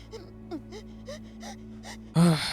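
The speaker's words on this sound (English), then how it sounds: "her breathing and the little whimpering sounds just immediately brings you to tears" A young girl breathes shakily with little whimpering sounds in a tense drama scene, soft uneven breaths and faint whines that end in a louder sharp gasp.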